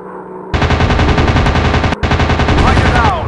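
Rapid aircraft machine-gun fire from a WW2 dogfight mobile game, a dense continuous burst with a brief break near the two-second mark, loud and alone over a low engine drone.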